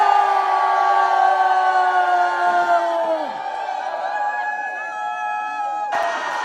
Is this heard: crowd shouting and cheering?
yes